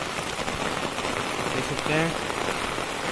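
Rain falls steadily on surfaces around a Bihar village where covered maize cobs sit under a green-blue sheet, a dense continuous hiss with a brief tonal sound near the middle and a voice speaking faintly over it.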